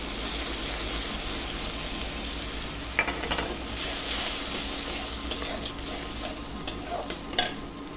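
Ground poppy seed paste with chilli goes into a pan of fried onion and tomato and is stirred, giving a soft steady sizzle with scattered spoon scrapes and clinks against the pan, close and moderately quiet.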